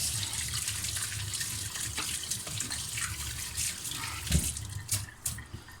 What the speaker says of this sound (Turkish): Şimdi ellerimizi yıkayalım.